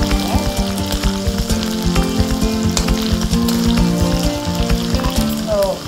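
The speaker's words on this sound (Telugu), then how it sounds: "నూనె కాగిన తర్వాత కొంచెం ఉల్లిపాయలు వేసేయాలి." Onions hit hot oil for an eggplant curry, a loud, steady crackling sizzle with dense spitting pops close by, running continuously without talk.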